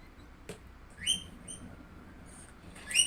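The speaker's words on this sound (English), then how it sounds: "That's my bird you hear in the background." A pet bird chirps faintly in the background of a quiet crafting room, giving a few short high tweets around the middle and again near the end.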